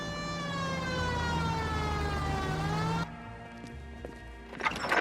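A wailing police car siren in the video game L.A. Noire rises and holds for about three seconds, then cuts off, leaving quieter engine and street noise with a few knocks.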